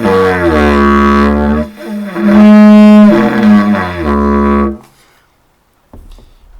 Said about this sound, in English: On the didge, it sounds like this.